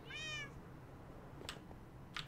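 A single short cat meow at the start, clear and fairly close, followed by quiet background with a couple of faint high clicks, in a Minecraft-style game setting.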